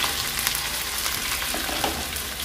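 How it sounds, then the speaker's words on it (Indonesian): Sliced green beans stir-fry with spices in a pan for a yellow-spiced home dish, giving a steady, dense sizzle and crackle with no voices. "Tumis hingga wangi."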